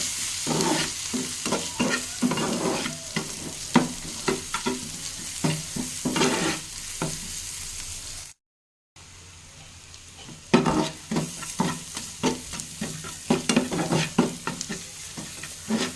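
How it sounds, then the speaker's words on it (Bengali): Mixed spices including Kashmiri chilli powder are stir-fried together in a pan, a loud sizzle with rapid rhythmic spoon scrapes. A brief silent gap falls midway, and the sizzling and stirring resume just as busily afterward. "তো চলো এখন সবগুলো মশলা দিয়ে একটু ভালো করে কষিয়ে নেব সবগুলো মশলাকে একসঙ্গে"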